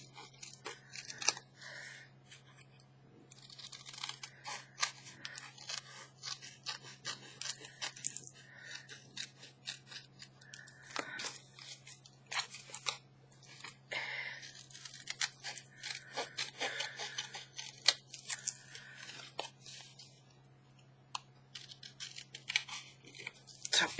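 Scissors cut through paper card for belly bands, giving soft, quiet snips and rustling scrapes at close range. The cuts come in irregular bursts, with occasional faint talk in the background.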